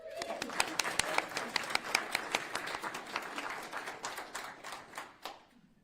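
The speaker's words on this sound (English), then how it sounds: "Let's give him a round of applause." Audience applause at a school voucher protest, a dense crowd clapping for a school board member that starts loud and gradually thins out and fades over several seconds, with brief talk mixed in.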